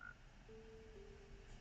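Frog croaking inside a video game where frogs are being bred, a quiet low sustained croak, faint and alone.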